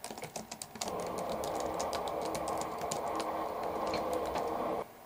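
Fast, steady typing on a computer keyboard, close and continuous for about four seconds with a few scattered key taps just before, then stopping abruptly.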